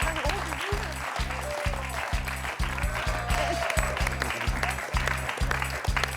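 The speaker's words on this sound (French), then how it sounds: "On applaudit quand même Antoine." A studio audience applauds on a French quiz show, with a steady patter of clapping under a strong regular low thumping beat and faint voices mixed in.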